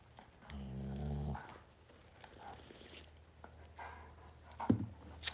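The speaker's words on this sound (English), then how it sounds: "The puppies are fighting because dogs." Puppies growl as they fight, first with a low, steady growl and then with softer scuffling, yips and pawing, fairly quiet and close.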